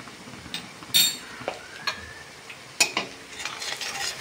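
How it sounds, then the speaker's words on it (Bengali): Sliced onion frying in a pan with salt and turmeric, scraped and stirred with a utensil in several sharp clattering strokes over a soft, steady sizzle, close up with no talking. "দিয়ে ভালো করে পেঁয়াজটাকে ভাজবো।"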